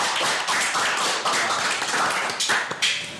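An audience at an East Java talk show applauds with dense, steady clapping. The clapping is loud and continuous throughout, with a few sharper claps standing out near the end.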